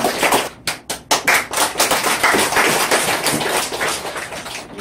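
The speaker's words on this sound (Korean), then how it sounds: "예, 박수 부탁드리겠습니다." An audience claps at a Peace Army and Peace Police formation ceremony in Gyeonggi, with sharp, separate claps at first that build into dense, steady applause, loud and close throughout.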